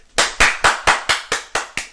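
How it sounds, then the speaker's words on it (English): Eight sharp, evenly spaced hand claps, about four per second, close and crisp against a quiet background, like one person clapping in a steady rhythm. "I need a round of applause!"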